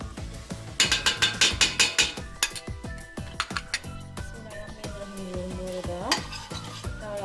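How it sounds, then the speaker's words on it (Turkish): Tomato paste being stirred into meat and onions sizzling in a pan for Turkish-style dried bean stew, with a spoon clinking and scraping in quick rhythmic bursts over a continuous sizzle, close and clear. "Hemen ben bunun içerisine şuradan salçamı, birazcık salçamı katayım."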